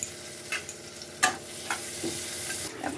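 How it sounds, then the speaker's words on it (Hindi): Boiled eggs frying in hot oil seasoned with turmeric and salt, a soft steady sizzle broken by a few sharp spatters and stirring clicks, close by with no talking. "अंडा करी के लिए मैंने ऑयल में थोड़ा सा हल्दी और नमक दे दिया है सबसे पहले तो एक एक को फ्राई कर लूंगी"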